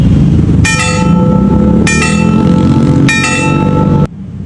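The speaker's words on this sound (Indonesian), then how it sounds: "fungsi genta pada setiap JPL yang ada di perlintasan adalah sebagai peringatan suara bagi pengguna jalan bahwa kereta akan melintas" A railway level crossing warning bell strikes in three loud, close bursts of rapid ringing over a steady background rumble, cutting off abruptly near the end.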